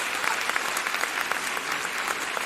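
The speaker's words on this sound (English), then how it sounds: "that's about the funniest, most peculiar thing I've ever done is clap for myself there" A single person claps for himself, a quick run of sharp, fairly faint hand claps in steady succession with no voices over them.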